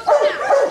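A dog gives two quick, close, loud barks, the second following about half a second after the first.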